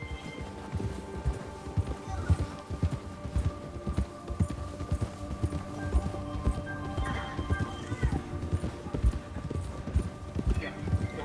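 Steady clip-clop of hooves at a quick gallop, rhythmic and continuous, with ambient outdoor noise and an occasional faint whinny, from a horse in the video game Red Dead Redemption 2.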